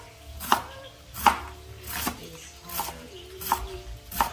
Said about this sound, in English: I'm just gonna take this knife and cut them down the sides because I want it to be easier for me to chop them.